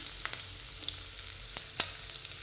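Shallots, ginger and garlic sautéing in a pan, a steady close sizzle with a few brief sharp pops and crackles standing out; no one speaks.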